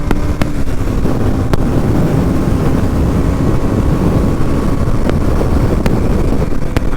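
A Bajaj Pulsar NS200 motorcycle runs at top speed on a highway, a loud, constant roar dominated by rushing wind buffeting the microphone, with the engine drone steady throughout and a few faint clicks.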